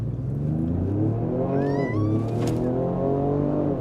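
A 2025 Ford Explorer ST family three-row SUV with rear-wheel drive launches hard from a brake-boosted start, its engine note rising steadily as it accelerates toward 60 mph, loud and continuous inside the cabin.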